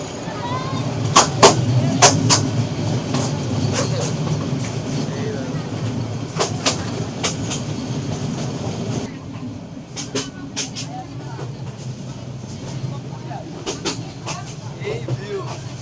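A local passenger train rolls along near Jamalpur, Bangladesh, with a steady low rumble and repeated sharp clacks from the wheels over the rails, loud and continuous, while people talk faintly on board.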